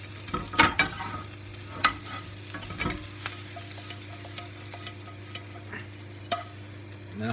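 Mushrooms and pancetta fry in a pan with a soft, steady sizzle, broken by occasional sharp clicks and scrapes of stirring, close and without talk.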